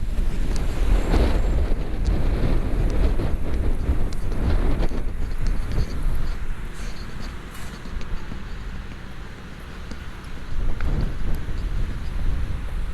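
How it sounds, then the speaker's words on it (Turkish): Steady wind rumble against a partly covered microphone near Istanbul's Byzantine city walls, fairly loud and continuous, easing somewhat midway before gusting up again. "Şu mikrofonu azıcık kapattım rüzgar biraz az olsun diye"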